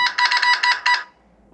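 A Samsung A40 phone's short electronic notification chime, a rapid run of bright tonal beeps lasting about a second, then quiet.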